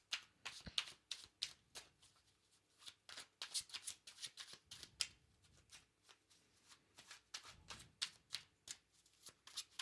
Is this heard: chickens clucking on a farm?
no